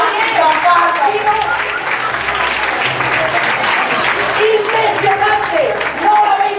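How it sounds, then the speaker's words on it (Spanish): Lively applause from a year-end party crowd, loud and sustained, with people talking and calling out over the clapping. "¡Un aplauso!"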